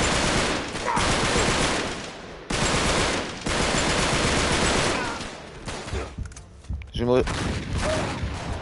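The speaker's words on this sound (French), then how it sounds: "on me tire dessus là!" Heavy gunfire aimed at the player in Uncharted 3, loud bursts of rapid automatic fire with brief breaks and sharp single shots, a voice speaking briefly between them.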